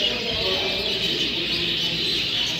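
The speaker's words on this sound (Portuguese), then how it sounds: "Canário do criador Brainer." A champion canary from breeder Brainer sings a continuous high, bright trill, close and loud, with no pauses.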